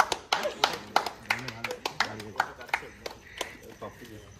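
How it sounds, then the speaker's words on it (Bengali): Applause for the man of the match at a 2024 Dum Dum cricket premier league prize ceremony: sharp, uneven claps from a small crowd ring out over a few seconds, with someone talking over them. "অভিধান জোরে হাততালি হয়ে যাক"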